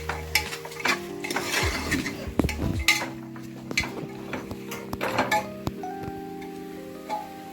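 Vegetables and peas for a pulao are stirred in a pot, with irregular scraping strokes and sharp utensil clinks against the metal, up close over a quiet sizzle and a faint tonal background.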